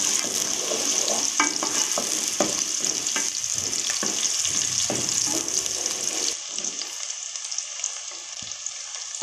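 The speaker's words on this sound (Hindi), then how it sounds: "प्याज को फ्राई कर लेंगे।" Onions fry in about three spoonfuls of hot oil, a steady sizzle with scraping stirs over it; the sizzle drops to a quieter hiss near the end.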